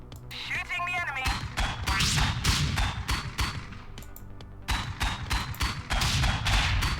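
Gunfire from the top-down game Convoy, with repeated rapid bursts of shots aimed at enemies, loud and dense, broken by brief pauses, along with a short warbling electronic effect near the start.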